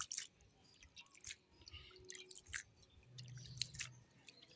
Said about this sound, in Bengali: এই জল দিয়ে ধুয়ে নিলাম